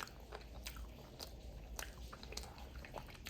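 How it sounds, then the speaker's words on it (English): Close, quiet biting and chewing of crunchy seasoned fries coated in paprika, garlic salt, seasoning salt, flour and black pepper, with soft repeated crunches and wet chewing close to the mic and no talk. "a little crunch on that fry"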